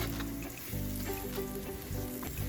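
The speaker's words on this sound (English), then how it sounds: "I have the garlic in now" Garlic sizzling in a pan with onion, butter and olive oil, a steady close frying crackle with faint stirring, no talk.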